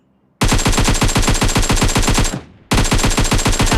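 Fast automatic gunfire in a battle royale game, two loud sustained bursts of evenly spaced shots with a short break between them and no talk.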